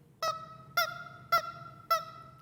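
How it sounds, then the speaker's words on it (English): A squeezed rubber chicken toy squawks four times in an even rhythm, each a loud, nasal honk with a short wheezing tail, close by and alone. "you get a little back squeak on that squawking chicken"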